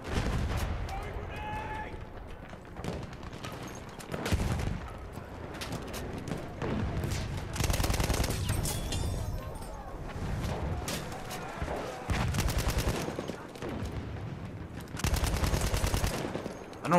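Battlefield 1 battle gunfire keeps up steadily, with repeated heavy bursts and rumbling booms like artillery, and a voice talks over the din now and then.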